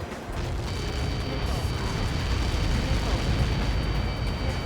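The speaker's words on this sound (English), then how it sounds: "How many got caught in that explosion?" A missile impact explosion in the combat flight game Ace Combat 7 produces a sustained, loud, rumbling blast roar that holds steady throughout, with a faint tonal hum above.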